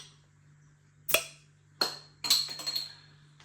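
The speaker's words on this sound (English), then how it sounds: "Nice bit of smoke on the bottle opening." Bottle of Woodforde's Old School pale ale being opened: a sharp metallic cap click followed by two more clinking knocks and a short rattling hiss, close and distinct against a quiet background hum.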